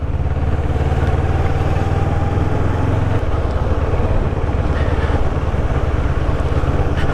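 A CF Moto 650NK motorcycle riding in gear at low speed, its engine droning steadily under loud wind rush, with a shift in engine tone partway through.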